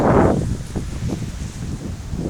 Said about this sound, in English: It's getting quite windy out there.